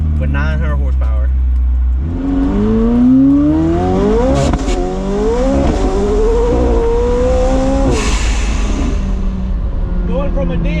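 Hard acceleration from a McLaren 765LT supercar, roughly 900 horsepower in a 2,400-pound car, heard from inside as the engine note climbs through rising gear pulls, loud and continuous, with people talking over it.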